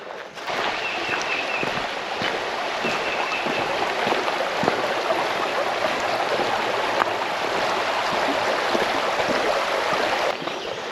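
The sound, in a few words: small stream flowing beside hiking trail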